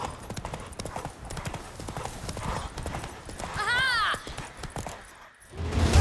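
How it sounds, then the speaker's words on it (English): A horse galloping in the video game The Witcher 3, steady rapid clip-clop of hooves throughout, with a brief whinny midway and game music and a voice in the background. "Oh, his horse is really fast."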